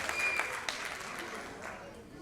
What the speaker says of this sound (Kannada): ಒಂದು ಜೋರಾದ ಚಪ್ಪಾಳೆ ಬರಲಿ ನಮ್ಮ ಕವಿಗಳಿಗೆ, ಅದಕ್ಕೆ ಸಂಗೀತ ಕಂಪೋಸ್ ಮಾಡಿದವರಿಗೆ, ಹಾಡಿದವರಿಗೆ